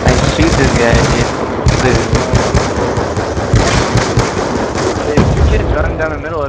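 Rapid, continuous gunfire from an online Search and Destroy match played for GameBattles, with dense bursts running loud and unbroken throughout while players talk excitedly over the shooting.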